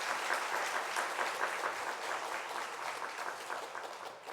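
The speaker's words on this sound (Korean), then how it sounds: "큰 박수로 함께 격려하고 축복해 주시기 바랍니다" A church congregation applauds during a Sunday afternoon praise service honoring Sunday school teachers: sustained, even clapping from many hands, moderately distant and soft, with no talking over it.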